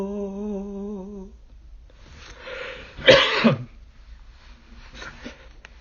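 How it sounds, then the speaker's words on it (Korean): A man coughs several times in a quiet indoor setting after a hummed sung note, a couple of short throat-clearing bursts followed by a louder, harsher cough and a fainter one. "뭡니까 기침까지 나오네요"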